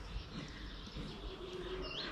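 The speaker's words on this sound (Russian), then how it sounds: "Ну, птичка какая-то хорошая пришла, поет." A songbird chirps and sings faintly over steady outdoor ambience at a lakeside fishing spot in May, with no voices.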